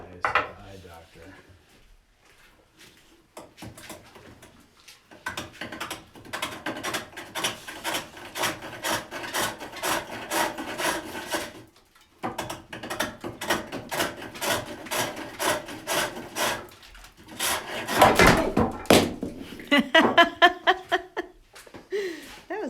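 Wood is turned on a foot-powered pole lathe with a new mandrel, giving steady rhythmic scraping and rasping cuts in repeating strokes, with brief pauses, a louder burst near the end and some voices and laughter.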